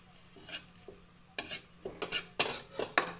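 Squid sautéing in cooking oil in a pan, heard as a faint hiss under a run of loud, irregular spatula scrapes and clanks against the metal, growing busier toward the end, with no talking.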